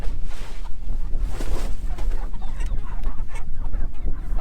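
Meat chickens in an enclosed coop cluck and murmur continuously, a busy close flock sound over a steady low rumble, with no talking.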